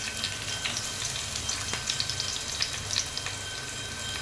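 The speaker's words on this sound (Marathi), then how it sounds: "तडक्यासाठी तेल टाकायचं आहे। त्याच्यात कांदा टाकायचा।" Onion sizzles in hot oil for a Khandeshi shev bhaji tempering, a steady close frying hiss with small crackling pops scattered throughout and no talk.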